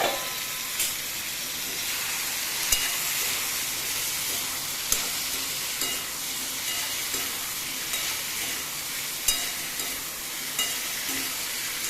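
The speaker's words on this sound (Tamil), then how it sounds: "நம்ம கடாயில் போட்டு 2 திருப்பின உடனே அது டக்குன்னு சுருள ஆரம்பிக்கும்" Finger-cut eggplant frying in a kadai, a steady loud sizzle and hiss running throughout, broken by occasional sharp clicks of the spatula stirring the pieces, close up with no voices.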